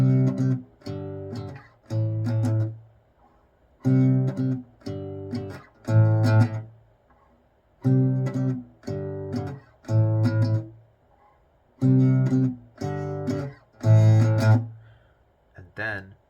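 The build-up riff from a song's final chorus comes in several short, punchy bursts separated by brief gaps, each phrase a rising run of loud, distorted notes.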